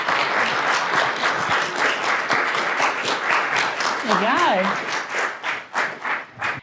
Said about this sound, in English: Big round of applause for Rachel.